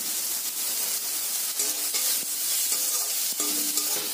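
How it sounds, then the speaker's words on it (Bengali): Spices, garlic, chopped tomato, salt and grated ginger fry in a pan for a soybean dish, giving a steady close sizzle throughout, with a spoon stirring and scraping in a few short bursts. "সব মশলাগুলো ভাজা হয়ে গেছে।"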